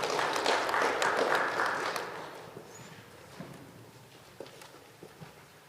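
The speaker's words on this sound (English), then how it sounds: "Give him a round of applause." An audience at a ministerial regional business engagement in the Kharas Region applauds a presenter, dense clapping fading out after about two seconds into a few scattered, faint claps.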